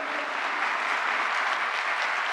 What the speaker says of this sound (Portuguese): pedir uma salva de palmas aos nossos estudantes brasileiros aqui presentes